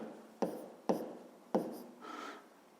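Chalk or pen tapping and scratching out numbers during a fifth-grade maths lesson, three sharp close strokes followed by a brief softer scrape, heard alone in a quiet room.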